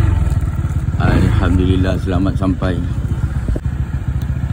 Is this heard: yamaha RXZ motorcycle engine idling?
yes